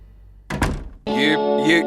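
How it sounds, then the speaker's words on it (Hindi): A door being closed in a Hindi TV drama scene, a quick double thump of the door shutting followed by a voice speaking over a sustained tone. "ये दरवाजा क्यों बंद कर रही हो तुम?"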